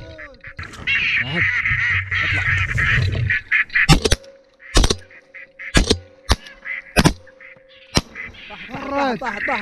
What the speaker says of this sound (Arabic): وهذا بعد بط